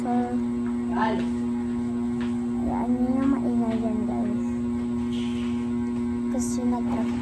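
A steady motor hum drones throughout, with a person talking over it.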